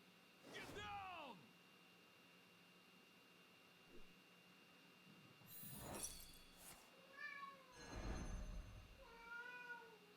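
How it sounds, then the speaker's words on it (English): A cat meowing loudly, several drawn-out meows with rising and falling pitch spread across the span, close and clear over a quiet hiss, with a person talking in between. "Why are you meowing so loud?"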